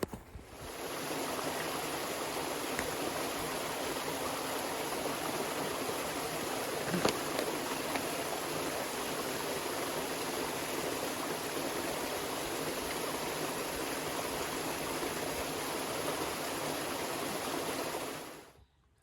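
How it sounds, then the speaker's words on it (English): A small, noisy stream flows outdoors, a constant broadband rushing and trickling of water heard close up and steady throughout before cutting off at the end. "we've got away from that noisy little stream there"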